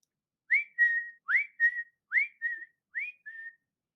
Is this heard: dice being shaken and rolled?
no